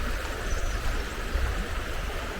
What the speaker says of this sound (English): The river bubbling away.